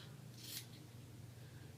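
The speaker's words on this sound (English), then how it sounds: "I'm going to cut a little piece of this off" Scissors snip a small piece off a sheet in a single quiet cut, faint and close against a low background hum.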